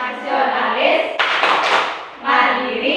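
Classroom Tepuk PPK clapping game: one dense burst of hand claps in the middle, framed by voices chanting in unison.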